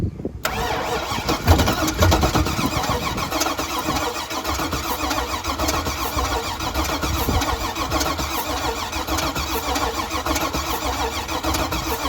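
The V8 engine of a Chevrolet S10 pickup cranks briefly, catches and runs on as a loud, steady, rumbling idle close by, continuing for about twelve seconds with no pauses.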